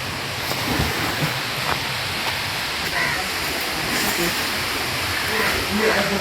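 Water pours steadily from a village spring on a monsoon morning, a continuous broadband rush close by with faint background sounds.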